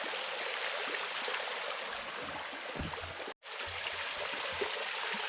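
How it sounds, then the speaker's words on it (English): A waterfall on the Cedar Lake trail gives off a steady, broadband rushing roar close by, constant throughout apart from one very brief dropout, with no voices. "Really cool waterfall."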